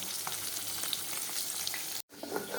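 Fish frying in a home kitchen pan. A steady, close sizzle with faint crackles runs alone, then cuts out briefly just before the end.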